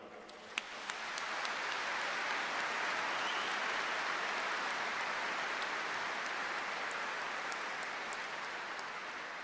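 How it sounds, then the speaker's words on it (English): A large crowd of graduates at a Liverpool University graduation ceremony applauds steadily, dense clapping swelling quickly and holding loud for several seconds before easing slightly, with no voices over it. "give yourself a round of applause for that right now"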